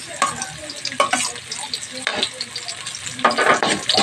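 Onion sautéing in a pan for chicken in coconut milk with chili, a close, steady sizzle broken by several louder stirring scrapes and bursts.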